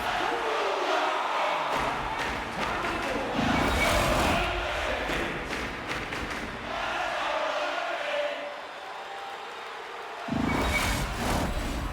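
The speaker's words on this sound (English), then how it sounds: "You can feel the energy in this crowd." Roaring hockey arena crowd in NHL 25, a loud sustained cheering swell that rises and falls over several seconds, with occasional louder surges and faint commentary underneath.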